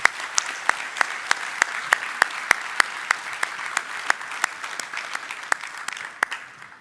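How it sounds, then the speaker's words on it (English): A crowd at the LANPAC 2026 military conference applauding steadily, with a few sharper individual claps standing out above the dense clapping throughout. "Round of applause for our soldiers from the 25th ID."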